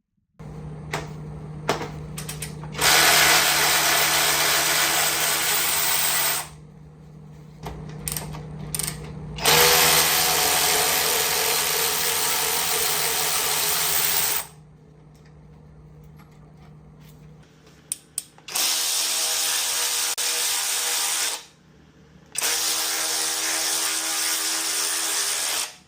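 Wrenches work bolts loose between a transmission and an engine on an engine stand, with repeated loud ratcheting bursts of several seconds each, separated by short quiet gaps and faint clinks.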